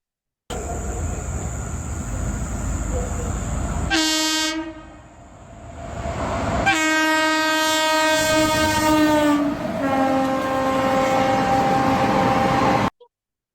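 A train horn blares loudly as the train rushes past, its pitch dropping sharply as it goes by, with rumbling wheels throughout.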